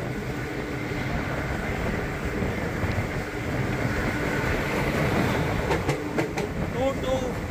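Madgaon–Hazrat Nizamuddin Rajdhani Express rolling past at a crossing during the monsoon, a steady loud rumble with wheel clatter filling the whole stretch and a few sharper metallic clicks near the end.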